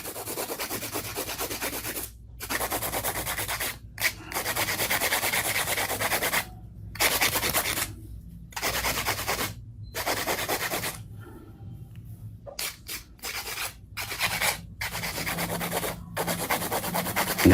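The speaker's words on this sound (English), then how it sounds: "Hand filing is definitely more efficient than using a drill." A nail is hand filed for neon pink ombré nail art: close, steady rasping strokes in long bursts with brief pauses between, and no talking.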